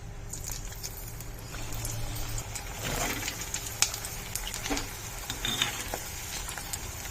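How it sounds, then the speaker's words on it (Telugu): Half-fried pearl millet flour snacks going back into hot oil on a high flame, a continuous bubbling sizzle with occasional clicks and scrapes, moderately close. "వీటిని కొంచెం పచ్చిగా ఉన్నప్పుడే నేను ఆయిల్ నుండి తీసేసానండి. మరలా ఆయిల్లో వేస్తున్నాను."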